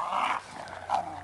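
Dogs growl and grumble in two short bursts while playing with a soccer ball, close and fairly loud over a brief moment of playful tussling.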